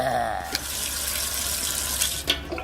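Water runs steadily from a tap for drinking, a continuous hiss with a couple of brief clinks, fairly close and alone.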